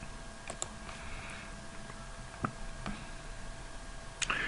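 Sparse, sharp mouse clicks from a computer working in Excel, a few isolated ticks spaced irregularly over a quiet background, close and fairly faint.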